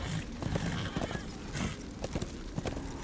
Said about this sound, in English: We can still use our horse.